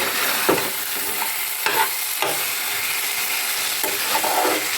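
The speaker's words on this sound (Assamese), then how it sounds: "আৰু এতিয়া লৰাই দিম।" A pan of fish curry with potato, peas and capsicum being stirred: a few distinct spoon scrapes over a soft, continuous sizzle, close up.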